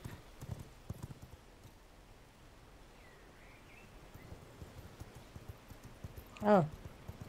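Hooves clip-clop faintly and irregularly over quiet ambience in the video game V Rising, ending with a short louder whinny-like call near the end.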